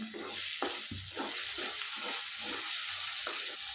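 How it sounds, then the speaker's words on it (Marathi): Ingredients being stirred and roasted in a hot pan while preparing a rustic Indian thecha thali, with repeated scraping strokes of a spoon over steady, soft sizzling. "चांगलं भाजून घेऊया। ह्याला भी हलवून घेऊया"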